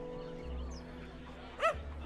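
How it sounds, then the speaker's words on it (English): A dog in the video game Hardland gives one short, sharp bark near the end, after a stretch of quiet game ambience with a low hum and a faint whine. "Oh, lots of dogs in here, isn't there? Making a lot of noise."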